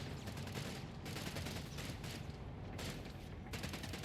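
Sustained gunfire from a StuG assault gun in Company of Heroes 3 on the Mignano Summit map, a dense continuous battle din of rapid shots and booms throughout, loud and steady with no pauses.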